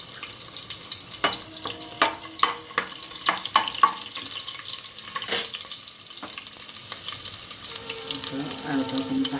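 Onion fries lightly in oil for tempering a Kolhapuri goat mutton curry, with a soft sizzle broken by scattered clinks and scrapes of a utensil against the pan, close and moderately loud, easing into a steadier hiss at the end.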